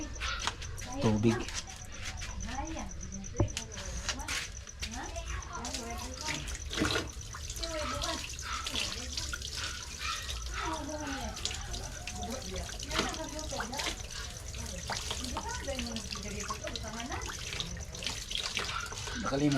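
Water runs from a kitchen tap in a steady splashing stream, under an ongoing voice talking and some clinks and knocks of handling nearby.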